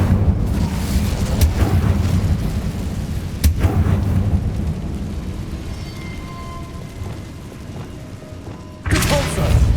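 Explosive spell blasts from Hogwarts Legacy, such as Bombarda and Confringo, boom and thud through a dense, rumbling battle din, with a few sharper hits standing out and a final heavy burst near the end.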